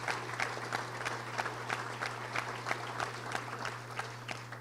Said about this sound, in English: Let's give them a round of applause because they have been chicken warriors.